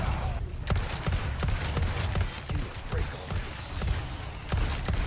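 Rapid bursts of gunfire from an overpowered modded gun in Resident Evil 4, a steady series of sharp, close, loud shots over game background noise.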